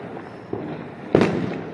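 Firecrackers go off during Diwali celebrations, a small pop followed by a louder close sharp bang with a brief rumbling tail.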